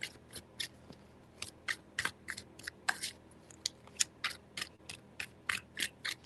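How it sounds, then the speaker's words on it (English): Tarot cards are shuffled by hand, making quick, crisp, papery riffles and snaps in an uneven but steady rhythm. The sound is close and fairly soft, with no talk. "Three shuffles."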